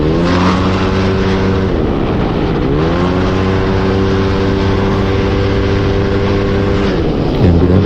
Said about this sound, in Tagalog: ito gamit ko nga pala Yamaha Aerox na version 3